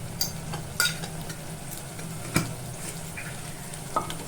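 Chopped tomatoes with turmeric powder sauté in a hot pan, a steady low sizzle broken by a few sharp scrapes and clinks of a spoon stirring.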